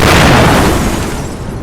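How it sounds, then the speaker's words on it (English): A loud explosion with a fireball erupts near a storm-lashed waterfront, a heavy booming blast that fills the moment and then slowly decays into a rumbling tail. "The explosion sent a fireball spark."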